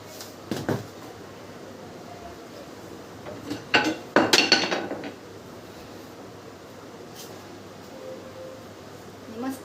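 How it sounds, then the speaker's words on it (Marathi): Garlic, chili and salt pounded by hand, heard as a few scattered knocks and then a dense cluster of sharp, clinking hits against a mortar, fairly close, with quiet pauses between bursts. "मस्त असं कुटून घेते."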